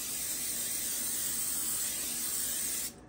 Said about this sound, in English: So, cooking spray on your pan.